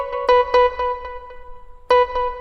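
A Yamaha keyboard lead voice with its harmony effect set to a 1/8 echo sounds clustered notes that repeat in quick, fading eighth-note echoes, clear and close, with no talking.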